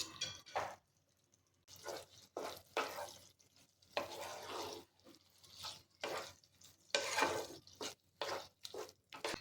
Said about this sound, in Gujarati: હવે આપણે એમાં લીલા ધાણા ઉમેરી અને બધું જ મિક્સ કરી લઈશું